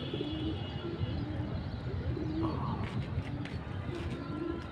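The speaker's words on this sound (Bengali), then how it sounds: "দুই তিনটা কবুতর দৌড়াইতেছে আছে এই যে বাসার উপরে আবার আসছে" Pigeons coo softly around a rooftop loft in the morning, low repeated calls over steady background hum with faint voices nearby.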